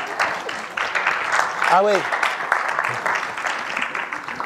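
Audience applause in a conference hall after a speaker's fall on stage, a broad steady wash of clapping lasting several seconds with a brief voice cutting through.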